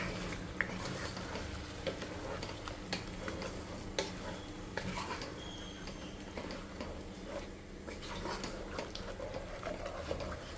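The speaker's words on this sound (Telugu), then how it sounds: "టమోటా పేస్ట్ వేసిన తర్వాత ఒకసారి బాగా మిక్స్ చేసేద్దాము" Tomato paste being stirred in a cooking pan with a spoon, soft scattered clicks and scrapes over a low, steady sizzle, fairly quiet and without talk.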